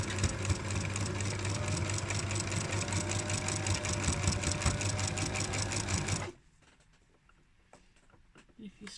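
A sewing machine stitching down a pyjama waistband hem, running in a fast steady rhythmic whir for about six seconds and then stopping, leaving faint handling sounds.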